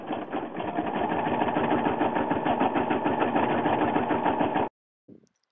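A Brother Innov-is 990D embroidery machine stitches a Tinkerbell applique in a steady, fast mechanical whirr with rhythmic needle ticks, running close and alone before stopping abruptly, followed by a brief soft click.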